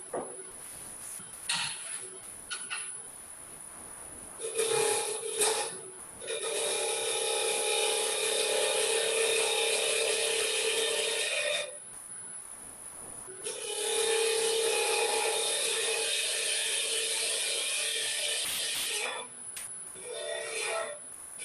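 A Hunter cutting tool rides the bevel on a piece of wood spinning on a lathe, making long, steady scraping and hissing passes with short breaks, close and moderately loud.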